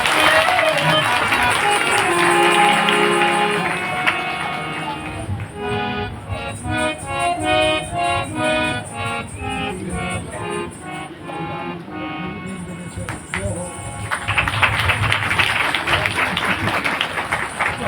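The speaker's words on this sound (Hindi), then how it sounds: "इनके लिए ताली तो बजा दो" Audience at a mass Hanuman Chalisa recitation gathering bursts into loud, dense clapping, strongest at the start and again near the end, with a stretch of tonal music or singing running through the middle.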